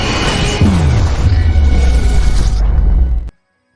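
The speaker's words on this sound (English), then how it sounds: "Here is your doomsday explosion." A loud boom sound effect of a doomsday explosion plays on a livestream, opening with a sudden blast and a falling rumble that roars for about three seconds before cutting off abruptly to silence.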